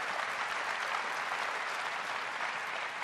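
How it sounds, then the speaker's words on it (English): Steady, dense applause from a crowd in a music video game, a continuous even wash of clapping with no break, moderately loud and alone. "And the crowd goes wild."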